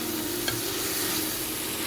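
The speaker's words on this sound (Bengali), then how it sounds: "আমি রসুন আর টমেটোটা একটু ভেজে নেব। কাজুটাও আমি এর সাথে একটু ভেজে নিচ্ছি।" Garlic, tomato and cashews fry in a pan with a steady, close hiss and sizzle, one faint clink as they are stirred, and no talking.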